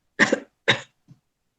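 Two sharp coughs in quick succession, close and fairly loud, followed by a faint short throat sound, then silence.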